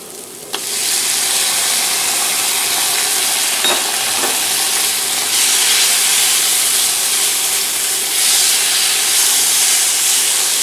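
Green chilies hitting a hot pan with allspice and other spices for samosa filling, giving a loud, steady, close sizzle and hiss that swells briefly and holds throughout, with occasional stirring scrapes and no talk.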